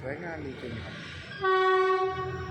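A train horn sounds a long, steady multi-tone blast after a man's quiet speech, moderately loud and somewhat distant, in Kanchanaburi, Thailand.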